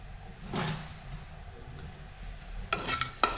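Dried red chillies fry in a pan on the stove. Short bursts of sizzling and stirring break through a quiet background, one early and a cluster near the end, with no talking.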